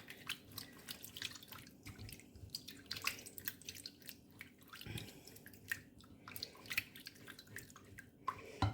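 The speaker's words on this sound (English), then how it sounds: "I just put a bit of water in" Water trickles and drips into a jar of revived five-month-old sourdough starter, faint and close, with small irregular splashes and droplets against a quiet room.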